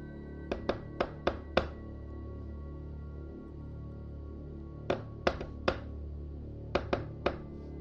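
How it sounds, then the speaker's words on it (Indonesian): Knocking on a bedroom door at night: three quick clusters of sharp knuckle raps, four or five in a burst, then a pause, then more, crisp and moderately close against a low steady hum. "Telingaku menangkap seseorang mengetuk pintu kamarku."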